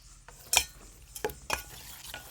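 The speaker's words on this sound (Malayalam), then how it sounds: "ഇത് നല്ലപോലെ നമുക്ക് മിക്സ് ചെയ്തിട്ട് മാറ്റി വെക്കാം." Chopped mango being mixed with rock salt in a bowl, heard as a few soft, close scraping and clinking stirs with short gaps between them and no talking.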